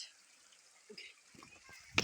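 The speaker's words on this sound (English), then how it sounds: "let's put in the water" A Doogee S89Pro rugged phone is lowered into water, giving one short, sharp splash near the end after a few soft, low bumps and faint voices.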